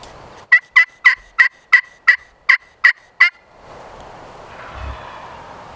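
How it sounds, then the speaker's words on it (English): A wild turkey gobbles from the pines on a spring hunt in Indiana, giving a rapid rattling burst of about nine evenly spaced loud notes, followed by quiet outdoor ambience. "Bird just gobbled up in the pines here above us."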